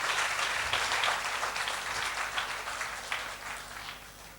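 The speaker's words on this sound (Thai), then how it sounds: "ขอเสียงปรบมือเป็นเกียรติให้วิทยากรด้วยนะคะ" An audience at an animation talk claps for the guest speaker, a broad sustained round of applause that gradually thins out over about four seconds.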